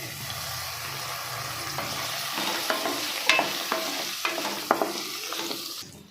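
Cashews, dried red chillies and coconut fry in hot oil for a mutton curry masala, a steady close sizzle with scraping stirs and a few sharp clicks of the spoon against the pan, no voices.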